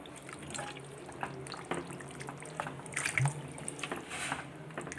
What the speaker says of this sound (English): Now I'm going to add another half a liter of water to this.